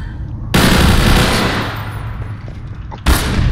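Gunfire in a Garry's Mod roleplay game: a loud sustained burst of rapid automatic shots that tapers off, then a second sharp burst starts near the end.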